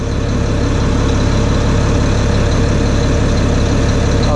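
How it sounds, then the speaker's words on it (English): Tower boom truck engine idling with the pump clutch off, a loud, steady low rumble throughout with no change in rhythm and no voices. "You hear the engine, clutch is engaged right now."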